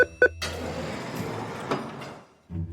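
A bathroom door in a puzzle game is unlocked and slid open: a couple of short clicks, then a sustained rumbling slide that fades out before a brief thud at the end.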